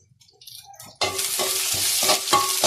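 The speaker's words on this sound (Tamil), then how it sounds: "இதை கொஞ்சம் எண்ணெயில் வதக்கி போட்டு" After a quiet moment, garlic, curry leaves and cumin hit hot oil for a fish curry and burst into a loud, close sizzle, with rhythmic stirring scrapes as the spices sauté.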